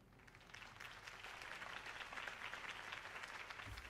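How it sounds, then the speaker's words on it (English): Sustained crowd applause at a campaign rally in the Batman Telltale Series video game, a broad steady wash of many hands clapping that swells slightly and holds throughout. "My campaign's largest backer could have heard that applause."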